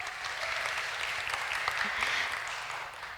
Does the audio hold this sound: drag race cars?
no